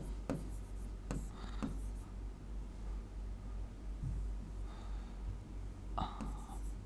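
Handwriting on a board or page during a Hindi grammar class comes through as faint scratchy strokes in short bursts, with soft breathy voice sounds between them.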